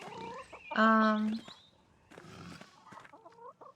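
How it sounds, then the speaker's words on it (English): Poultry calls from chickens in the video game Pentiment: a loud, drawn-out harmonic squawk or gobble near the start, then softer clucks and bird chatter, with a voice briefly audible. "Chickens."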